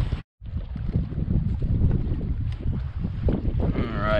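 Strong gusting wind battering the microphone on a fishing boat near timber, heavy low rumbling buffets that cut out briefly near the start and then keep pounding steadily.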